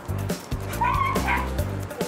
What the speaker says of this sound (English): It takes over 2 months to teach a dog like Diesel how to sniff the most minute traces of gunpowder